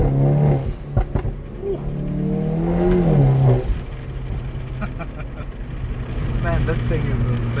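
A Stage 2+ tuned Hyundai i30 N engine revs and roars, its exhaust note booming and echoing loudly off a nearby wall, with a person talking over the engine noise.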